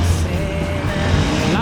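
A Piaggio Ape three-wheeler's small engine runs near a tractor, giving a steady low putter with a faint whine above it, loud and continuous throughout.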